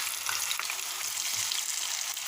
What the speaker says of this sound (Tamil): ஒவ்வொரு பீஸாக அப்படியே எடுத்து போட வேண்டியதான்